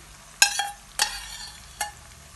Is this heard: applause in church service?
no